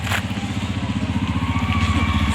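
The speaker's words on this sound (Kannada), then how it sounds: "ಡ್ರೈವರ್ ಬರ್ತಾ ಇದ್ದಾನೆ ಗಾಡಿ ತಗೊಂಡು." A vehicle engine thrums close by with a steady pulsing idle as it pulls up at a village fair in Koppal. The low throbbing rhythm continues without talk.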